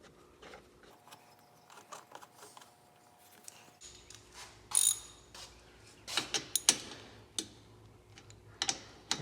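Fasteners being tightened on a hazard brake light of a John Deere 1025R compact tractor, heard as scattered close metallic clicks and ratcheting taps in uneven bursts, some sharp and louder, with no talk.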